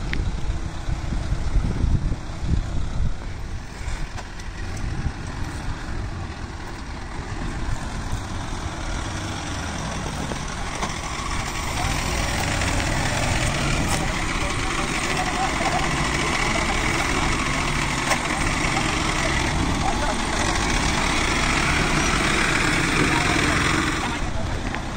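A Mahindra Novo 755 DI tractor ploughs with a Lemken plough, its engine giving a continuous, heavy low rumble that grows slightly louder partway through, while someone talks over it.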